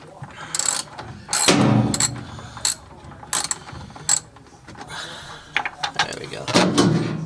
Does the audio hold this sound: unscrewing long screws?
yes